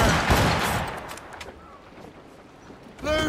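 Ship cannons firing in Assassin's Creed Rogue during a naval fight, heard as a heavy rumbling blast that fades into low roar and ocean ambience, with another burst at the end.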